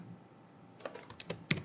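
Quiet keystrokes on a computer keyboard while typing code, a short burst of separate clicks growing slightly louder toward the end, close by.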